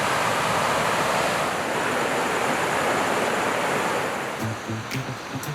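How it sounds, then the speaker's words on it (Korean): A full mountain valley stream swollen after recent rain rushes steadily and loudly close by, a continuous broadband roar of flowing water with no talk. "여러분들 물소리 들리시나요? 지금은 물량이 되게 좀 많은 편이에요."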